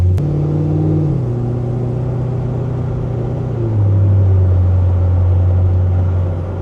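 A Corvette's engine hums steadily at low revs, then its pitch steps up and the note grows louder as the car pulls away. The engine is close and clear, with no speech over it.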